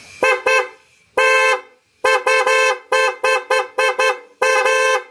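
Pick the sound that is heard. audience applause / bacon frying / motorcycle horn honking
motorcycle horn honking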